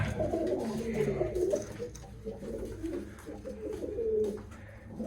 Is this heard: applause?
no